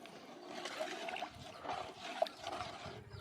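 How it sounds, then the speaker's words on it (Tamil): Water poured into a pot of country chicken soup, a quiet, steady trickling splash that runs for a few seconds, close by and faint. "இப்போ தண்ணி ஒரு 3 செம்பு தண்ணி ஊற்றிக்கலாம்."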